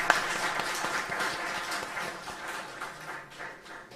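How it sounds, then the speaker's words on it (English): Applause from an audience at a research conference, moderately faint clapping that rises and then thins out over a few seconds. "give yourselves a round of applause"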